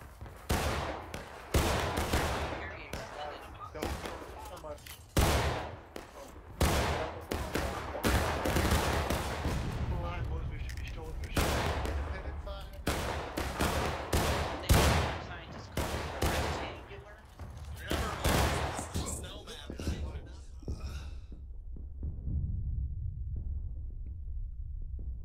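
Rifle volleys crack out from a Civil War regiment in the War of Rights game, a steady ragged run of sharp, loud shots that overlaps and thins out near the end.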